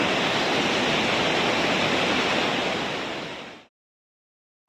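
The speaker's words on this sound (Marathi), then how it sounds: "पाण्याचा प्रवाह लय जोरात वाहतोय" A strong river current roars loud and broadband, rushing steadily for over three seconds before fading out into silence.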